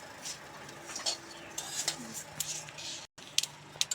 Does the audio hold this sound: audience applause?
no